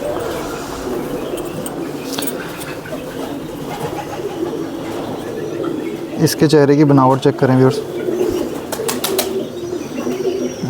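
A Gerebaz pigeon, a black-faced rooftop breed, gives a short burst of cooing near the middle, close by, with someone talking in Hindi over most of the stretch.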